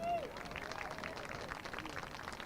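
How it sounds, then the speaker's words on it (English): A high school football crowd at Kountze Lions versus New Waverly Bulldogs applauds on senior night, steady distant clapping mixed with crowd babble and a faint voice at the start. "Please applaud for our next senior"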